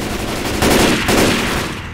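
Assault rifle gunfire in the video game Left 4 Dead, a dense sustained automatic burst, loud and close, swelling briefly through the middle with no talking.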